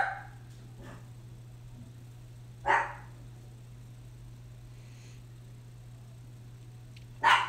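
Two dogs barking at each other indoors, with a few short, separate barks spaced seconds apart over a steady low hum, no speech.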